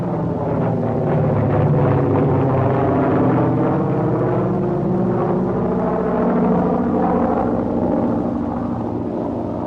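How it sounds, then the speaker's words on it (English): A PBY flying boat taking off while towing a CG-4A glider in wartime footage, a continuous heavy droning engine roar that swells and holds steady throughout, with no talk. "Note the takeoff of the PBY before the glider."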